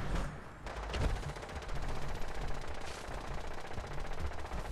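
Rapid automatic gunfire rattles almost without pause in a Fallout 4 firefight, loud and dense bursts running the whole stretch, with no speech over it.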